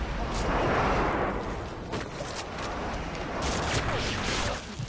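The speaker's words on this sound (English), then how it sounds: "Friendly airstrike on the way." Airstrike explosions in Call of Duty MW2 on the Wasteland map, heard as a continuous rumbling barrage of blasts with sharp bursts near the start and again toward the end, loud and dense throughout.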